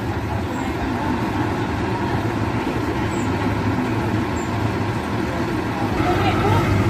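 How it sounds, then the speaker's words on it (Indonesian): Akas bus on the Surabaya–Malang route pulling out of Pamekasan bus terminal, a steady engine rumble amid terminal traffic noise that swells toward the end as it moves off. "bus Akas jurusan Surabaya Malang sudah siap keluar dari terminal."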